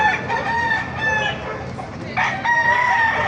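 A bulik-feathered gamefowl rooster crows at a market, two loud drawn-out calls close by against steady crowd and market noise.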